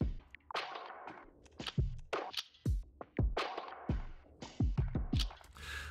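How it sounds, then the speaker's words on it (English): A gritty, crunchy drum loop with plenty of hiss runs by itself: punchy kick and snare hits fall in a steady groove over a constant noisy wash, with no voices. "Here's a drum loop."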